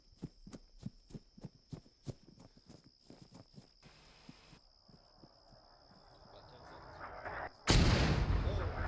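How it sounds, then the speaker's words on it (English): Mortar fire in the military shooter game ArmA 3, a rapid series of sharp thumping impacts repeating for several seconds, then a louder nearby blast with rushing noise at the end. "Mortar sounds were coming from the town."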